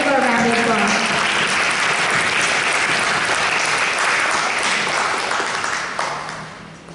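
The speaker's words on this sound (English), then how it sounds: "Let's give her a round of applause" Audience applause at a school board meeting for an award recipient, loud dense clapping that holds steady and then fades toward the end, with a voice briefly heard at the start.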